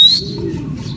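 Racing pigeons in a training session give a sharp chirp at the start, followed by soft, low cooing nearby.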